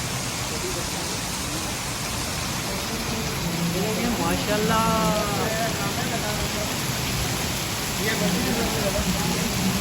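Steady rain pours onto a rooftop in Gilgit, a dense, even hiss that runs the whole time, with a voice speaking briefly over it.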